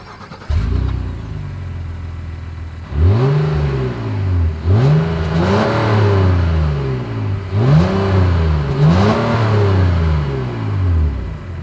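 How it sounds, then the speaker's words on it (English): A 2025 Honda Ridgeline pickup truck's engine, heard through its dual exhaust, idles, then revs up sharply several times in succession, each throaty roar rising and falling, loud and close. "As always, here is that exhaust clip."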